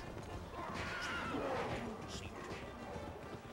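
A horse neighs loudly in the video game Kameo: Elements of Power, with clip-clopping hooves and game noise running under the whinny for a few seconds.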